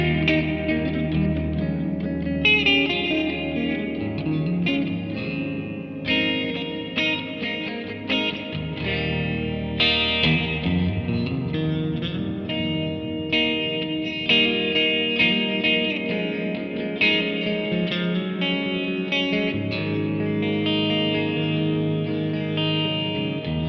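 Electric guitar chords and single notes from a Gibson Firebird X on its Taj Mahal reverb preset ring out steadily, drenched in long, spacious reverb that smears each note into a lush, washing tail.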